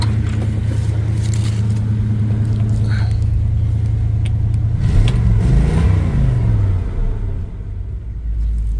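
A 1978 Chevy truck engine idles loudly after a cold start, a deep steady rumble that swells into a revving rise and fall before settling, with no talking.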